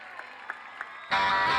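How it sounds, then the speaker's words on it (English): Crowd applause breaks out for the South African players at the 2015 Polocrosse World Cup final, a sudden loud burst of dense clapping following a few faint isolated claps. "Give them a round of applause for the South Africans."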